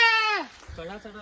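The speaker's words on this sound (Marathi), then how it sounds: "बकऱ्याचा आवाज येतो आपल्याला।" A single loud, quavering goat bleat close by, falling in pitch, followed by a person talking briefly.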